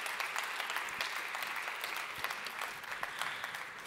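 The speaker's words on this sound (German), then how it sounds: "Sie bekommen einen herzlichen Applaus" An audience at the 2021 Forum Gesundheitsstandort BW health conference gives the forum speakers warm, even applause, a continuous soft patter of many hands at moderate distance.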